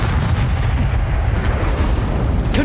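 Incendio fire spells cast in the Hogwarts Legacy video game make dense, booming explosive bursts that repeat through a loud, continuous roar of battle, close and with no speech.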